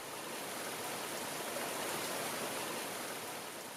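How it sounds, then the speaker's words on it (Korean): A clear stream flowing through a valley wetland, heard as an even, continuous rush of running water at moderate distance, with no other sounds. "맑은 물이 흐르는 계곡의 습지는 생명의 보고다."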